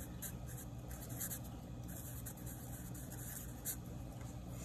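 Pen or marker scratching steadily across paper while a chemistry diagram of potential energy over a reaction is drawn, a faint continuous scribbling close by with no talk.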